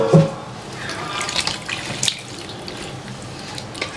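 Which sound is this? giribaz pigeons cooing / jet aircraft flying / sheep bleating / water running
water running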